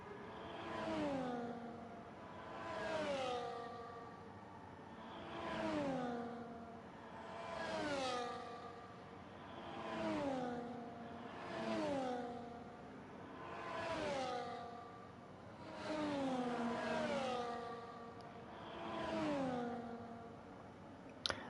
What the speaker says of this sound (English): I think there's slight differences in how the engines sound in the replay cameras